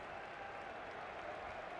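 Stadium crowd clapping steadily as footballers return to the pitch to restart a match, a dense, continuous wash of applause from many hands throughout.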